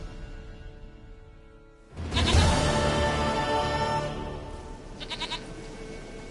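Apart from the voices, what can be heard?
goat bleating in The Witcher 3 video game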